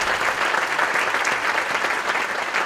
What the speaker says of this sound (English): So let's give a round of applause for them so far.